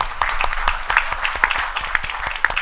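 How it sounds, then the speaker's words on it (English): An audience at a panel discussion on the economic climate claps for a panelist, a steady rhythmic round of applause from a modest-sized crowd at moderate distance, with no voices over it. "let's give her a round of applause"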